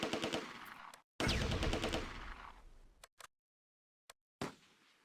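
Machine gun fire in the Close Combat wartime strategy game, a loud, rapid rattling burst and then a second long burst, followed by a few short isolated shots separated by silence.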